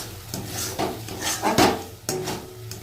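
A tomato and spice masala with cardamom, cloves and ginger-garlic paste gets stirred in a pan, giving several close knocks and scrapes of a utensil against the metal, spaced unevenly over a few seconds.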